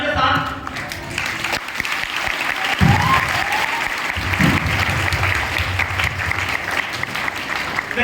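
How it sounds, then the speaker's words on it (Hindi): Sustained audience applause filling a seminar hall in Gurgaon, Haryana, dense and steady throughout with brief voices surfacing over the clapping. "एक बार जबरदस्त तालियों के साथ"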